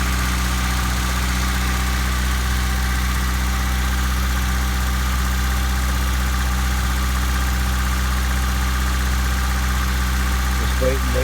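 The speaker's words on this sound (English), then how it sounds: "Let's see how it idles down. Idles a little bit high." A 1997 Honda Civic engine idles slightly high with a steady, loud, low drone and constant vibration, unchanging throughout and heard up close.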